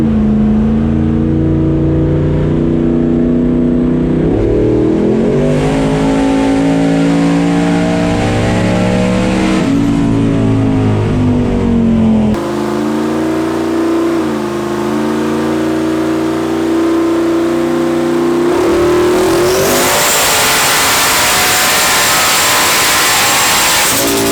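A stock-bottom-end turbocharged 5.3 V8 revs loudly and close, pitch climbing and falling through several sustained pulls, ending in a harsh, hissing high-rpm roar.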